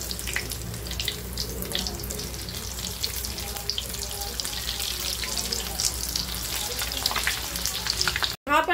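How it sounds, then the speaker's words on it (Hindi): Zam zam kebabs fry in a pan with a steady, loud, continuous sizzle that fills the whole stretch, ending in a brief cutoff. "दूसरे तरफ से 2 से 3 मिनट इसको फ्राई करना है।"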